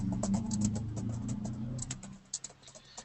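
Quick, light keystrokes on a computer keyboard patter at close range, a soft run of clicks that thins out into a few separate taps toward the end, with no talking.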